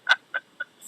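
A handheld turkey call mimicking a gobbling turkey: three quick, sharp yelps that fade in loudness, close and clear against silence.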